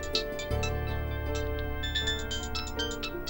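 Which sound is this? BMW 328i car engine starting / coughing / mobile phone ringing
mobile phone ringing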